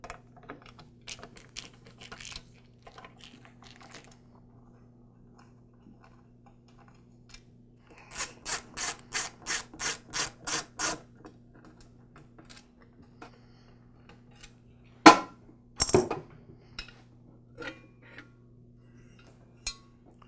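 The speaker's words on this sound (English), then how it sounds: "we'll remove the 4 screws that hold the top cover to the rest of the mixer." Screws being taken out of the top cover of a KitchenAid Pro 6 stand mixer: scattered light clicks and taps, a quick run of about ten evenly spaced ratcheting ticks, then a couple of sharper knocks, against a low steady hum.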